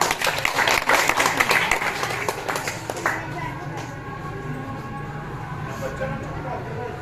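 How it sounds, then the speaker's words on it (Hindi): Crowd clapping at a village celebration of Maharana Pratap's birth anniversary, a dense burst of applause in the opening seconds that fades into a murmur of voices and background noise. "जोरदार ताली से"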